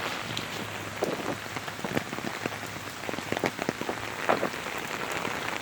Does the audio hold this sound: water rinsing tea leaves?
no